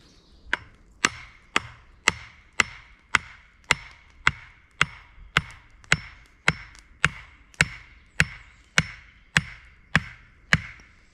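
An axe head is used as a hammer outdoors while preparing birch sap wine, delivering about eighteen sharp, evenly spaced knocks at a steady rhythm, each a loud close wooden thwack with a short ringing decay and no talk.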